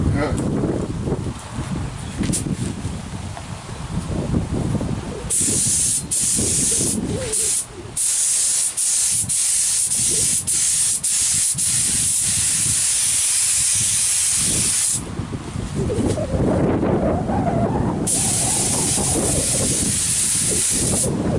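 Compressor-driven spray gun hissing steadily as Rust-Oleum paint goes onto a car fender, a continuous loud spray broken by a few short pauses and bursts, with the compressor rumbling underneath.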